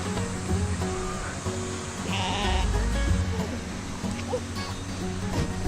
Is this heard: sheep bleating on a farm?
yes